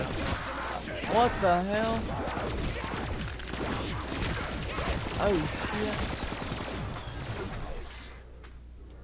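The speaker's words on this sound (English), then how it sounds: "That was a firework, I think." Dense rapid crackling bursts and pops of fireworks going off repeatedly in Black Ops 3 Zombies on The Giant map, with a man's startled exclamations over them before it fades.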